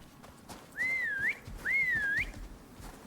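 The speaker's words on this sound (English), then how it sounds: "doing the global whistle." Two long rising-and-falling whistle calls ring out one after the other in the Icarus survival game, a global whistle summoning tuskers, clear and loud over faint background noise.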